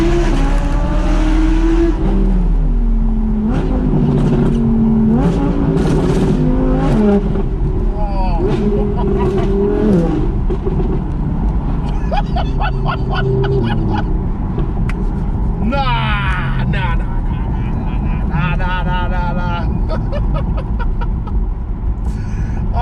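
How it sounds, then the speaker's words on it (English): An Audi R8 V10 Plus with a Quicksilver exhaust revs loudly nearby, its engine rising and falling through several sharp throttle blips and pops. Voices talk over it now and then. "let's listen to this Audi R8 Quicksilver V10 PLUS exhaust."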